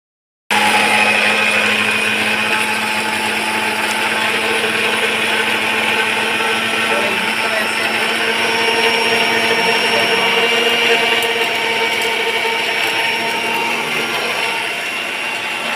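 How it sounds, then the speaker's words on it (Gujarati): A mixer grinder grinding homemade spice runs loud and steady from just after the start to the end, a continuous whirring motor drone with no speech. "થોડીક મિક્સરમાં કાઢી નાખવી।"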